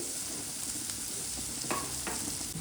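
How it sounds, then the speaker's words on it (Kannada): Chopped onions sizzle and fry steadily in a hot pan of oil while lemon rice is being prepared, a close, continuous crackle with a few brief stirring clinks and no talk. "ನೋಡಿ ಈರುಳ್ಳಿ ಎಲ್ಲ ಚೆನ್ನಾಗಿ ಫ್ರೈ ಆಗಿದೆ."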